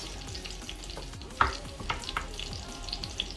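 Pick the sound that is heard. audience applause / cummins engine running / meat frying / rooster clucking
meat frying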